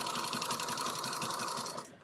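Sewing machine stitching bright zigzag thread onto a quilt piece: a loud, fast, even mechanical chatter running steadily alone, then stopping abruptly at the end.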